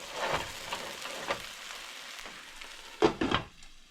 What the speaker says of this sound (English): Cook the other side for a little bit more.